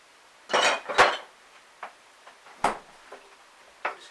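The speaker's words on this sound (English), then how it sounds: "I'm just going to stir it up." Stone ground mustard being stirred into a dish, heard as a few close, sharp clinks and scrapes of a utensil against a bowl in irregular bursts, with quiet gaps between them.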